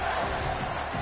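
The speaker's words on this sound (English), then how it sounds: "This crowd knows when to bring it" A football stadium crowd at a WKU at Miami game roars as the home side faces third down, a thick, sustained wall of cheering voices throughout.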